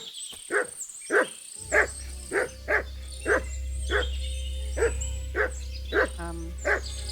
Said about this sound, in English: Can I shut the dog up?